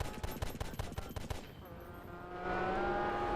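Rapid bursts of automatic gunfire from Grand Theft Auto: San Andreas, a loud run of sharp repeated shots during a train chase that gives way to a steady engine-like drone.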